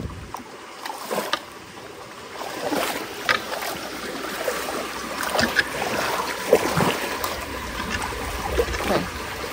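Water flows through a culvert clogged by beavers, a steady rushing wash with splashy bursts running throughout, fairly close and moderately loud, with no voices.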